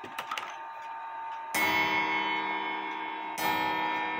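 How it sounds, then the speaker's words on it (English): Gong of an antique 1911 New Haven Sherbrooke grandfather clock under repair rings out loud and near, struck twice with long sustained metallic overtones decaying between strikes, after a few faint light taps at the start. "Nice loud gong."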